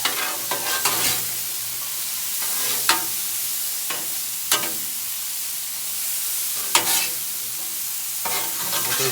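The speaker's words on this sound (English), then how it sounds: "So just stir that up real good." Veggies for chicken Phillies sizzling on a Blackstone griddle, a steady loud frying hiss broken by several sharp scraping stirs of a spatula, close up with no talk.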